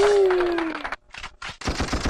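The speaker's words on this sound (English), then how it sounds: "Boom! Ang gunshot, ang dami." Gunshot sound effects fire from a V8 sound card in quick bursts, a loud crackling volley first, then several short separate bangs broken by brief silences.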